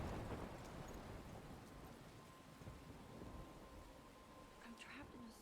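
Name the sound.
rain and thunderstorm in the video game Life is Strange Remastered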